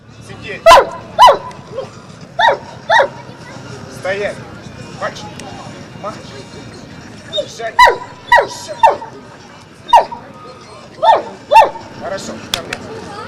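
Dogs bark in short clustered bursts at an outdoor dog handlers' performance on a city square during Ukrainian Independence Day, some yips among them, with crowd murmur and background noise between the barks.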